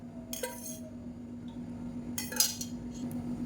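A tempering pan is set on a kitchen stove, giving a few light metallic clinks and clanks of cookware over quiet background hum, with no talking.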